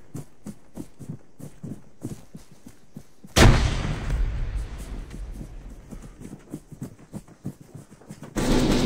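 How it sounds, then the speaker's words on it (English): A grenade explosion in Arma 3 goes off loudly with a sudden deep blast and long rumbling tail, set among a steady series of rhythmic thumps before and after, with another loud burst at the end. "Throwing grenade inside."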